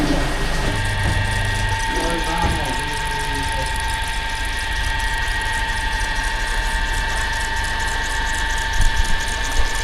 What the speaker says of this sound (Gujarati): હવે એને મિક્સ કરવા માટે પંપ અંદર ચાલુ કરી દેવાનો